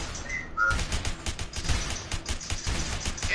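Video-game gunfire crackles in rapid, dense bursts, its sharp repeated shots mixed with mechanical clicking and rattling, loud and continuous with no speech.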